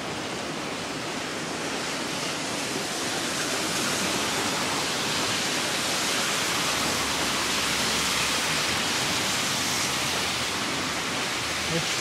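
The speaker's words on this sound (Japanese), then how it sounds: "このちょっと雨音をね、聞いていただけたら分かると思うんですけど" Heavy rain pours down around Fuji Station in a steady, dense roar that fills the scene evenly from start to finish without pause.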